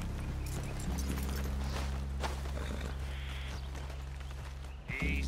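Horses walking in Red Dead Redemption 2, a soft steady clip-clop of hooves on the ground under a constant low ambient rumble, with brief brighter noises near the end.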